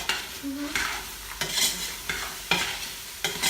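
Seasoned ground beef stirred and frying in a pot, with repeated scraping strokes of a spoon over a steady close sizzle, a few sharp bursts standing out.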